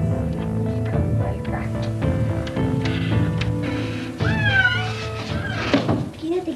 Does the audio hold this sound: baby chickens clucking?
no